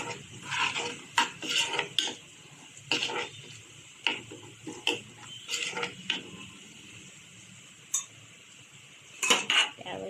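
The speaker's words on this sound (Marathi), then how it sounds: "जरा मॅश करून घ्यायचं कांद्यामध्ये कलर येईपर्यंत." Onions mashed with red chilli masala in a cooking pan as they brown, a utensil scraping and clanking against the metal in repeated, close, irregular strokes with no talking.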